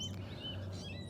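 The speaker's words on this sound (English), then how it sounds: "Those are my baby sparrows." Baby sparrows give high, thin chirps and tweets, several overlapping calls at a moderate distance over a low steady rumble of surf.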